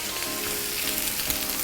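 Pork crackling fries and crisps in a pan with a loud, steady sizzle that crackles and spits continuously and close by.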